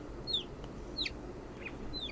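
Small chick cheeping in three or four thin, high, downward-sliding peeps spaced about a second apart, close by over a faint low background hum.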